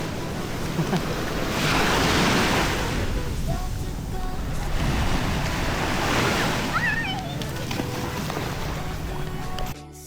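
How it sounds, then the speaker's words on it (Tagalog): Strong ocean waves crash and surge on a Bicol Province shore, loud and close with heavy wind buffeting the microphone, rolling in repeated swells. "Iba lakas ang alon."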